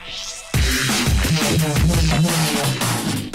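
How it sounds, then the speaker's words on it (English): A gritty, vowel-like, mid-heavy growling bass synth wobbles and snarls over a fast drum and bass beat, loud and busy. "A growl to me is a really mid-heavy synth that features an extremely prevalent vowel"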